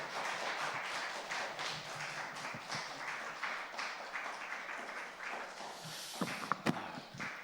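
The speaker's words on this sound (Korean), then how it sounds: "우리 같이 한번 환영의 박수 하면서" Sunday church congregation giving welcoming applause for a missionary, a steady wash of many hands clapping together at moderate distance, fading near the end with a few sharper knocks.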